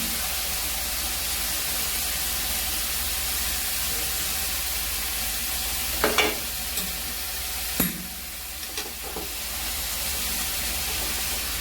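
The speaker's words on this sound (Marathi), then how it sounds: "आता पत्तागोबी आपण याच्यात टाकून घ्यायची, फोडणीमध्येच टाकायची।" Shredded cabbage frying in a hot spiced tempering for a Maharashtrian cabbage bhaji gives a steady, loud hiss, broken near the end by a few sharp spatula scrapes and stirs against the pan.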